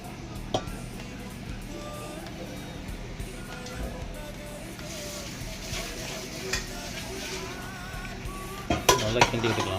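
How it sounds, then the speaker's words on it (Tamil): Prawns being stirred in a pan while making prawn biryani, with a utensil scraping and clinking against the metal over a steady background sizzle, brief louder clatters near the end. "அப்படி ரொம்ப உடையாத அளவுக்கு கிண்டுறோம்"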